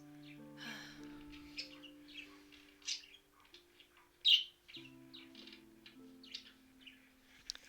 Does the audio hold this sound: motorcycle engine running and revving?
no